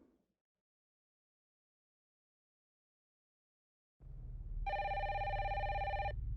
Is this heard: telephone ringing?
yes